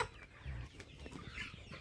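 Saso roosters give short, soft clucks close by, a few low bursts over a faint background with no voices.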